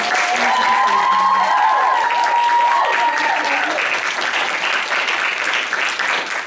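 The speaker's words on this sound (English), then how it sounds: "So I think they deserve a big round of applause." An audience at a school arts evening applauds loudly and steadily, dense clapping sustained for several seconds with a few voices calling out underneath.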